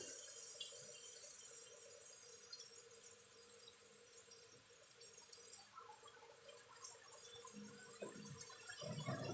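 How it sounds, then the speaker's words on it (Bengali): Water poured from a rinsed bowl of poppy seeds into a pan in a home kitchen, a faint, brief trickle and splash against a quiet background with a high steady hiss. "তো আমি একটু ভালো করে ধুয়ে জলটা দিয়ে দেবো।"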